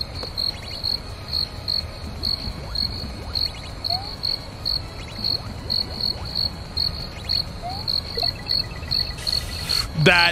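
Crickets chirp in steady pulsing bursts in a Kaizo Mario hack video game, a loud, regular insect trill running throughout with a few faint game blips over it.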